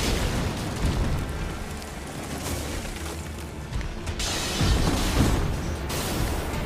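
Margit the Fell Omen's sweeping attack and follow-up in Elden Ring, a continuous roaring rumble of game combat with heavy booming impacts and whooshes, loud throughout.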